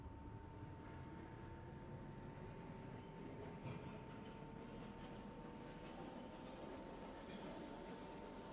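A Bronx-bound New York subway 3 train running between stations, with a steady, continuous rumble of rolling wheels and a thin squealing tone sustained throughout.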